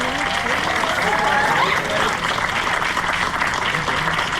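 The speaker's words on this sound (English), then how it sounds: "So one more round of applause for them." Parents and audience applaud a school jazz ensemble with a continuous, full round of clapping that stays steady throughout, a few scattered voices faint beneath it.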